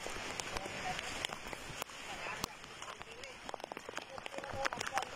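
Heavy rain at night on a boat returning from a fishing trip during a typhoon, a steady dense hiss with scattered sharp drip and splash impacts, close and continuous, with a voice talking faintly underneath.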